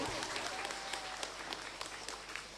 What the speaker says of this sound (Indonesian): Beri tepuk tangan yang meriah untuk Kakak Aprilian.